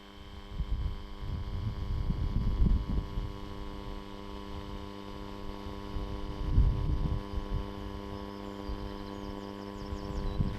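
A Leica RTC360 laser scanner runs a scan, giving a steady low mechanical hum with two slow swells of throbbing rotation, fairly quiet and continuous with no voices.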